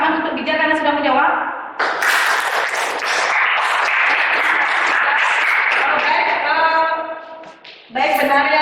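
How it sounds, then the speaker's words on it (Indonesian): Classroom audience claps for a student's answer, a burst of dense applause between stretches of someone talking, the clapping fading out before her voice returns. "Kita berikan tepuk tangan untuk Bija karena sudah menjawab."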